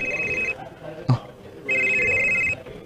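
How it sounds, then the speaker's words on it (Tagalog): A cellphone rings indoors with a bright electronic ringtone in two sustained bursts separated by a short pause, fairly loud against a quiet room background. "Nitingog yung cellphone"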